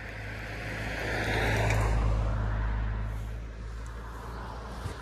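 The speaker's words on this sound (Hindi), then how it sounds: "या फिर ये गाड़ियों की नॉइस।" A vehicle drives past on a night jungle track in Jim Corbett National Park, its low engine rumble swelling as it nears and fading away over a steady background hum.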